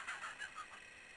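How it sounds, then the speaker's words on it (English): A chicken in The Urbz: Sims in the City video game gives a few quick, clucking fowl calls in a short rhythmic series, fairly faint and alone, fading out toward the end. "Did I just put a chicken in my pocket?"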